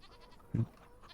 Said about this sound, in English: So we'll say hi to the goats.